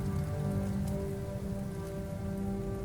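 Steady rain falling on a surface, a dense continuous hiss with a low rumble underneath, even in loudness from start to finish.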